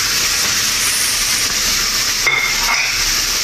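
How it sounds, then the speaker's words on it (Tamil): Chopped big onions hitting a hot pan while making chicken bread, a loud, steady sizzle and hiss that fills the whole stretch, with a brief stir-like scrape near the end. "இந்த டைமில் நாம் கட் பண்ணி வைக்க பெரிய வெங்காயத்தை சேர்த்துவோம்."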